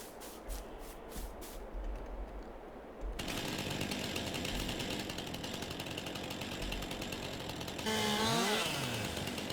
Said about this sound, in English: we do have the chainsaw lumberjack mod on, so we can go ahead and get rid of that stump